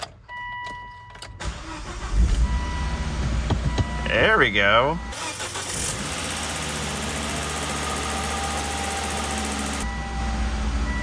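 A Volvo V70R engine cranks briefly, catches and starts, then settles into a steady idle; a person speaks briefly as it fires up.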